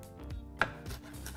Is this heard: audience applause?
no